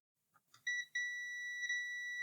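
A multimeter's continuity tester beeps on a wire, giving a couple of short clicks and chirps and then a steady high electronic tone that holds with a slight dip in the middle, close and clear.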